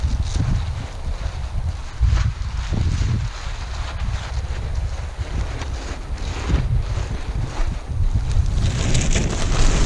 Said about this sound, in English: This wind is definitely not helping.